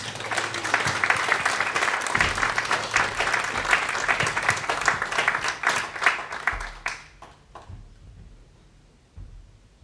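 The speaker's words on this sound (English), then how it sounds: "if we can just give a fantastic round of applause, please, to Terry and Natasha" Sustained audience applause greets performers Terry Lees and Natasha Norodien at a morning show, dense clapping that tapers off and fades out toward the end.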